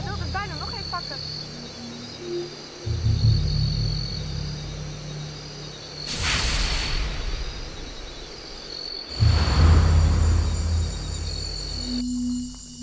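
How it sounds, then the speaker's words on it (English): A night chorus of insects, frogs and birds keeps up a continuous high trill, fairly faint, with louder rustling bursts and a person talking at points. "I hear frogs and insects and birds"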